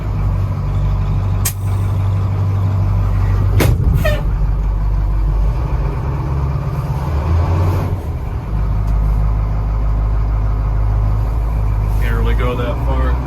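A 1985 Ford C8000 4x4 truck with a DD 8.2 diesel rumbles low and heavy as it drives off, with sharp hisses and clanks along the way. Someone talks over the engine.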